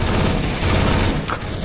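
A burst of dense, rapid gunfire from a Counter-Strike: Global Offensive match fills the moment. The crackling volleys are loud and overlapping, with no pause in between.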